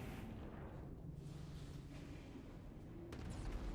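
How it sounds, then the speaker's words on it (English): An explosion aboard a space station orbiting the moon in the video game Prey, a low, rolling rumble with a sharper burst near the end, fairly faint and heard alone. "I knew that explosion would happen"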